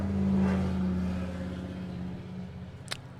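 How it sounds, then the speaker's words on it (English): A loud truck drives past, a low engine drone with a rumbling harmonic hum that holds steady and then fades over a few seconds, with no talking. "a loud truck just drove by"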